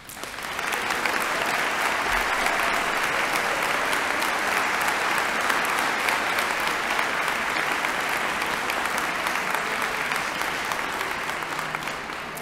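Sustained audience applause at a university presidential installation ceremony, a steady dense wash of many hands clapping in a large hall, loud and continuous throughout without talk.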